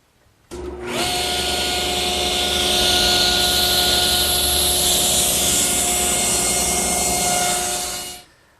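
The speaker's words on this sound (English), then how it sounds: "the first thing I want to do is clip off these corners at the saw" A saw whines steadily as it cuts the corners off a glued-up wood blank for a mailbox project, a loud sustained tone that starts abruptly, holds for about seven seconds and then spins down.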